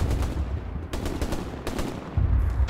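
Rapid bursts of automatic gunfire from the WWII shooter game Hell Let Loose crackle in several clusters, fairly close and loud, with a gun firing up from beneath a building floor.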